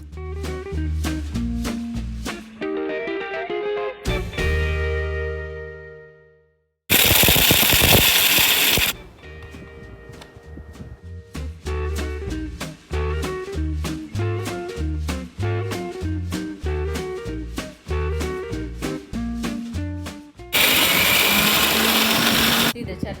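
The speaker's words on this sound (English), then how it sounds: "then you can use your blender to grind. You will grind the curry leaves." A kitchen blender grinds roasted curry leaves for a South Indian chutney in two short loud bursts of harsh whirring, each lasting about two seconds, separated by a stretch of background music.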